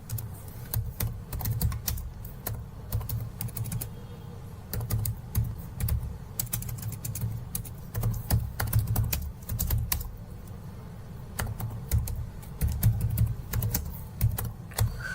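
Steady typing on a computer keyboard as a company name is entered in a word processor, a continuous patter of close, light key clicks with a low hum beneath and no speech.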